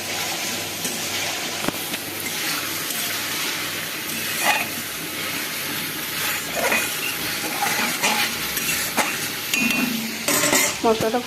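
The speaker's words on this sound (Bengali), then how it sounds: "মশলাটা কষা হয়ে যাচ্ছে" Masala paste sautéing in a pan gives a steady sizzle, with a spoon scraping and stirring and a few clinks of metal cookware. It stays close and continuous, and no voices break in.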